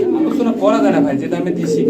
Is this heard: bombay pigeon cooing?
yes